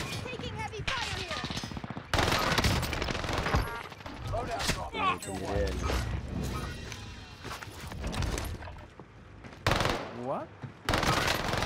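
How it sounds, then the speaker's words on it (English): Rapid gunfire bursts from heavy enemy fire in a Warzone Caldera battle royale match, loud and repeated in dense volleys through the whole stretch, with players talking over the shooting. "Taking heavy fire here."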